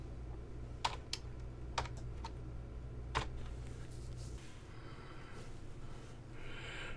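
Typing on a computer keyboard while an Arduino ambient light sensor lesson is being set up: a few sharp, separate key clicks over a steady low electrical hum, fairly close, with no speech.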